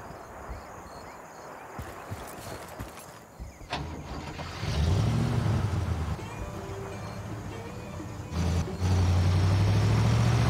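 A vehicle in Battlefield Bad Company, an Xbox war game, sounds at first as a low, steady rumble under clattering noise, then revs up into a loud, droning engine that rises and falls in pitch.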